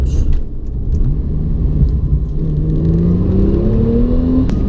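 A Porsche 911 Turbo S in Sport Plus mode accelerates hard, its engine note climbing steadily in pitch over a loud, continuous rumble from inside the car.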